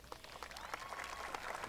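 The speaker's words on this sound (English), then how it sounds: "Yes, applaud that, yes." Applause from a graduation ceremony audience, a steady broadband wash of many hands clapping at once, fairly distant and moderately quiet, with no speech over it.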